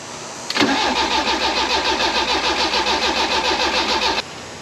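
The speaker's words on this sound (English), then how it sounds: "We're getting it to turn over." A Fiat X1/9 engine cranks over on a first start after a decade, the starter grinding in a steady rapid rhythm for several seconds, loud and close, then cutting off abruptly without catching.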